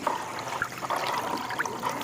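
A stick stirs a neem oil and water mixture, giving a soft, continuous sloshing and trickling with small rhythmic swirls, fairly close and heard without speech.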